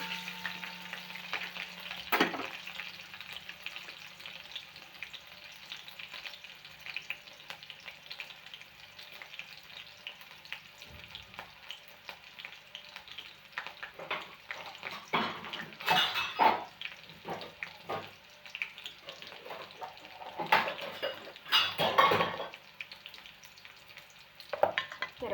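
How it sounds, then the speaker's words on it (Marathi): Green chillies and garlic roast in a pan for a methi bhaji, a soft, low-level sizzle broken by occasional clinks and scraping bursts of stirring, fairly quiet and with no one speaking. "हिरवी मिरची आणि लसूण असा छानपैकी भाजून घ्यायचं लालसर."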